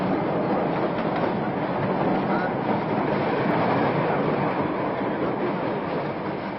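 A steady, loud rumble of a Paris metro train running on rails in 1971, continuous broadband roar with no distinct pauses, heard from close by.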